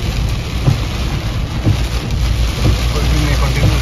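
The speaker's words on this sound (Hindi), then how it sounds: "बारिश इतना बैक टू बैक इतना लार्ज अमाउंट में हैवी स्केल में गिर रहा है" Heavy rain pours steadily during a thunderstorm near Sibonsi in Assam, a loud continuous wash of drops with no pauses.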